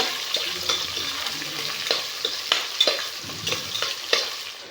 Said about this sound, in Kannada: ಈರುಳ್ಳಿ ಹಾಕೊತಾ ಇದ್ದೀನಿ ಫ್ರೆಂಡ್ಸ್ ಚೆನ್ನಾಗಿ ಫ್ರೈ ಆಗಲಿ ಇದು ಬ್ರೌನ್ ಕಲರ್ ಬರಬೇಕು